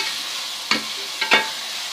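Chana dal with dumplings fried in a pot gives a soft, continuous sizzle, broken by two or three sharp scraping stirs in quick succession, all near and without talk.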